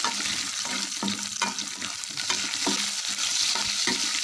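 Mustard seeds and curry leaves splutter in hot oil, a loud, busy sizzle with repeated sharp pops and crackles throughout.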